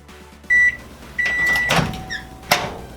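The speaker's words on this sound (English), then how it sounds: "So I'm going to do that in the microwave." A microwave hums steadily while electronic beeps sound several times and a door clicks, with a few faint clunks in a quiet kitchen.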